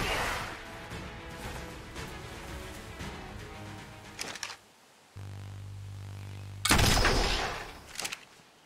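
Gus rifle fire from the MRRadTools mod for the video game ARK, bursts of repeated shots over a steady background hum, then a sudden loud blast near the end.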